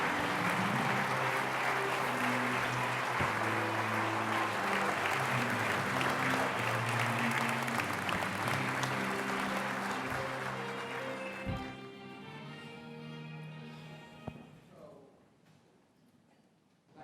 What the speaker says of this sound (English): That applause for Laura was fantastic.